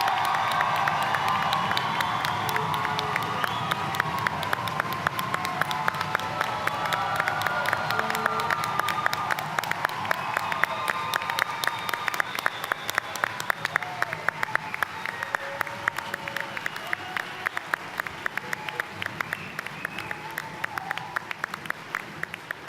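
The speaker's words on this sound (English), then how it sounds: "Now let's give our graduates a round of applause" A college commencement crowd cheers and applauds its graduates, with sustained clapping, shouts and whoops filling a large hall, loud and continuous, the cheering settling while the clapping rolls on.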